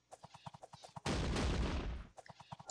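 A ranked musket volley in the battle game Sengoku Jidai erupts as one dense, loud crackling blast lasting about a second, between softer rhythmic thumps of marching or battle ambience.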